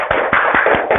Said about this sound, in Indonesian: Tepuk tangan untuk kita semua, Nak.